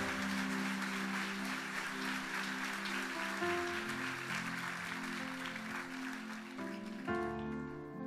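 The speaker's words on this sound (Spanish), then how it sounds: "Den un aplauso fuerte a Jesús" A church congregation claps loudly and steadily for Jesus, a dense sustained applause across the whole stretch while music plays beneath it, with the keyboard chords growing more prominent near the end.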